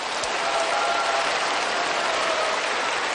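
An audience at a priest's lecture applauds, a steady, dense clapping that fills the room evenly from start to finish without a break.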